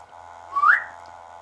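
A single short whistle rising in pitch, clear and fairly close, over a quiet background hum, at Fort Paull in Hull, UK.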